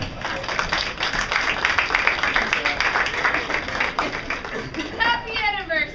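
A small group claps for a couple's anniversary, brisk close-up applause with voices talking over it and trailing into speech near the end.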